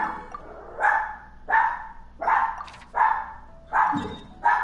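Several loud, close dog barks in the video game Genshin Impact repeat at regular intervals, around six in a row.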